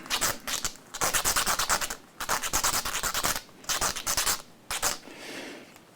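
Guitar fret ends on a Telecaster being filed and sharpened during a re-fret, close and loud, in bursts of rapid rasping strokes separated by short pauses, with no talking.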